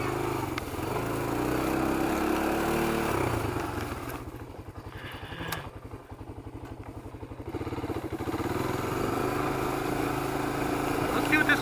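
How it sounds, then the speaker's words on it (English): Honda motorcycle engine bouncing off the rev limiter, a loud steady mechanical drone with rapid pulsing stutter mid-clip, a brief dip in level, then the roar returning, with some voice underneath. "Hey Mike, listen to this. That's a rev limiter."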